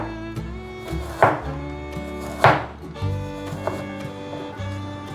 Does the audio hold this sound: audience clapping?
no